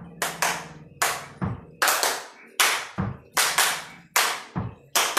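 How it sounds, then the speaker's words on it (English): Sharp hand claps ring out in a steady, evenly spaced rhythm, roughly one to two per second, each loud and close with a quick decay, sometimes doubled, with faint tones between them. "So first things first, hand claps."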